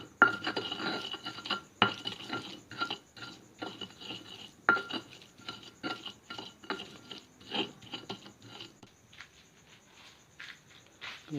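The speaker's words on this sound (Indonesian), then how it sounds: "Kemudian kita ulek ya teman-teman. Ini bawang merahnya mentah ya" Raw shallots are ground in a mortar with a pestle, giving repeated rough scraping and knocking strokes in an irregular rhythm, close and fairly quiet, tapering off toward the end.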